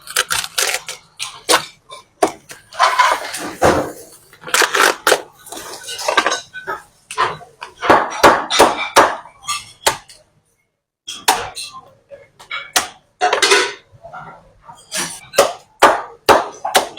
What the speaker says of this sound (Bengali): এখন আমি এটা কাটবো।